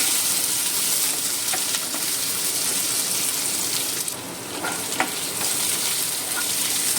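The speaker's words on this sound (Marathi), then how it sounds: "हो कांदो बरोसो लायट ब्रावन जावपर्यंत मातशें भाजून घेता" Onion and fenugreek seeds frying in a pan, giving a loud, continuous close-up sizzle with a few small pops and crackles along the way.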